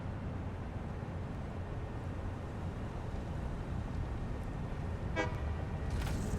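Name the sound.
vehicle honking while reversing in video game Satisfactory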